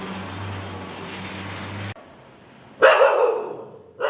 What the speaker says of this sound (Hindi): बेचारा डर गया है हैंड ग्राइंडर की आवाज़ से, तो वो मुझे भौंका जा रहा था बार बार